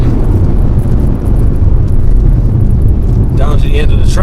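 An Audi RS6 quattro at about 200 km/h on a mossy road gives a loud, continuous low roar with heavy wind rumble, and the engine note shifts near the end.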